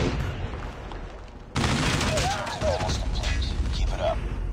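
Rapid, sustained minigun fire in Call of Duty Mobile, with a quieter stretch before a sudden loud burst of continuous gunfire and crashing booms that carries on to the end.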